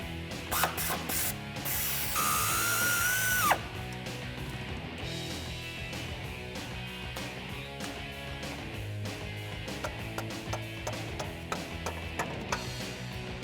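A power tool, likely a ratcheting gun, spins off a 15mm bolt on the upper control arm of a Jeep Wrangler TJ rear axle, a loud whirring burst for a few seconds, followed by ratchet clicking and clinking metal.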